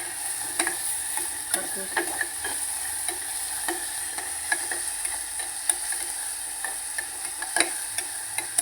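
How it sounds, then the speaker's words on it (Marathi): Ginger-garlic paste frying in a pan for spicy chicken curry gives a steady, fairly quiet sizzle with scattered light clicks of a spoon stirring throughout, and no voices. "आता त्याच्यामध्ये मी ह्या आलं लसणाची पेस्ट टाकते आपल्या लसणाची पेस्ट पण करून घेते तळून घेते मी चांगलं"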